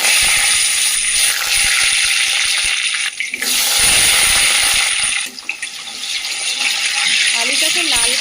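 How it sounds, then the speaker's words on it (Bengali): Potatoes frying in oil with cumin, bay leaf and green chili, a loud dense sizzle that runs continuously, dipping briefly twice as the pieces are stirred, with a faint voice in the background. "এবার ওই তেলের মধ্যে দিয়ে দেব জিরে, তেজপাতা, কাঁচা লঙ্কা দিয়ে আলুটাকে ভেজে নেব।"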